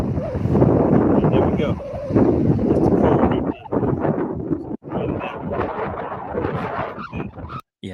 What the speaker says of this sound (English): as you can hear, it was very, very windy